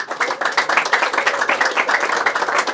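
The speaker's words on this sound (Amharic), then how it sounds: "አምጡ ጭብጨባውን።" Audience clapping at a spiritual poetry recitation, a steady dense patter of many hands sustained throughout without a break.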